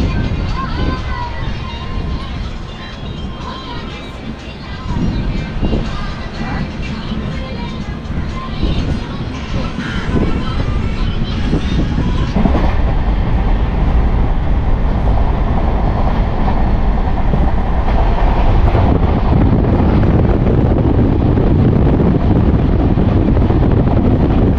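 An Amrit Bharat Express train pulls out of Bardhaman station, a loud rolling rumble and rattle that grows heavier and steadier as it gathers speed, with wind buffeting the microphone and a voice talking over it.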